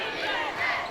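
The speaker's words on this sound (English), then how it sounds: "You hear the groan from the crowd at the miss of the free throw." A basketball crowd lets out a brief, broad collective groan after a missed free throw, a short swell of many voices filling the arena.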